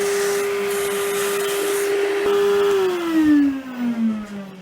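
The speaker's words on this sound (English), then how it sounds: "when I see you hoovering your PlayStation 4" A Henry Hoover vacuum cleaner used to clean a PS4 Slim gives a steady, close motor whine. Near the end the pitch slides down as the motor winds off.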